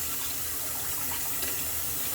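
Steady rush of tap water pouring into a sink, continuous and close, with no voices.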